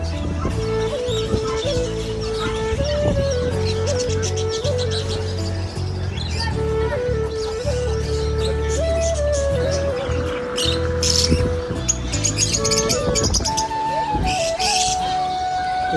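Birds chirp and call throughout a busy Dubai animal market that sells chickens, pigeons and other birds, with crowd murmur beneath.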